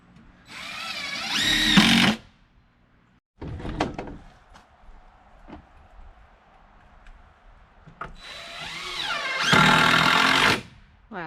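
A power drill drives screws in an off-grid workshop during a makeover, with two loud whirring bursts at the start and end of the clip and quieter handling clatter between them.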